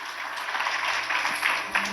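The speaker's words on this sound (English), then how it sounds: "Let's give Shane a round of applause, please." An audience applauding a speaker at a Detroit transformation event, a dense continuous clapping heard close and full throughout.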